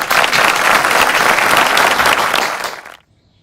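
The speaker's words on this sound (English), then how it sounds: "Let's give them a big round of applause." Loud, dense audience applause at an Indian cultural celebration finale, a continuous roar of many hands that cuts off sharply near the end, leaving near silence.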